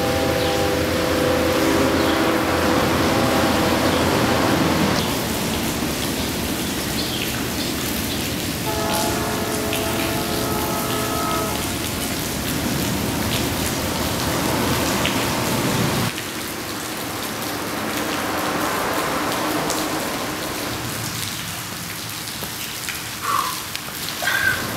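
Steady rain patters on surfaces outdoors as a constant close hiss, with a train-like rumbling tone passing through in places and no voices.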